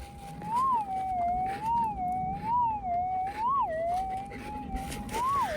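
A gold-prospecting metal detector, the 6,000, emits a steady electronic target tone that warbles up and down in a wavering pitch, loud and continuous over faint background noise from digging.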